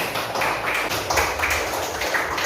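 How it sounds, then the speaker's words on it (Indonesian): A classroom group claps for everyone after presentations in a school lesson, a loud, continuous patter of hands close by with no talk over it. "Tepuk tangan untuk kita semua"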